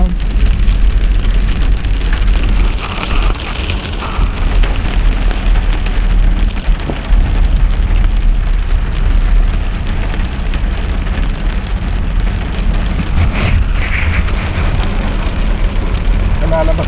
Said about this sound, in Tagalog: pero malakas ang ulan.